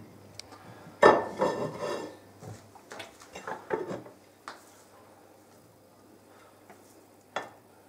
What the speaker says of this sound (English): Now, put all the other ingredients inside and mix it.